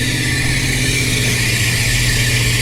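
Rally car engine held at steady, sustained revs during a recovery on a Polish rally stage, a loud continuous drone close by with no talk over it.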